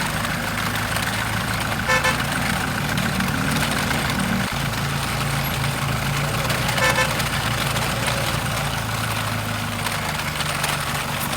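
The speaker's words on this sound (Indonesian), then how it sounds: "Mesin diesel pun dinyalakan." A diesel truck engine idles steadily at a harbour, a low continuous rumble with a brief horn-like toot around the middle, no talk over it.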